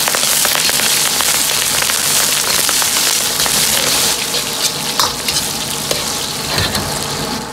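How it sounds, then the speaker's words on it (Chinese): Ginger and scallions stir-frying in hot scallion oil in a wok for braised pig's trotters, a loud dense sizzle like heavy rain that eases slightly partway through, with scattered stirring clicks and no talk. "油热后下入姜葱，先煸炒出香味"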